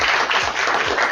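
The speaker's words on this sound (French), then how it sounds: "On applaudit toujours" Steady audience applause fills a Toastmasters debate-contest room, dense continuous clapping close and loud throughout without a break.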